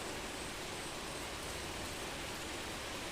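Rain pouring down during a heavy downpour, a dense, even wash of steady hiss without breaks or voices, fairly faint and distant.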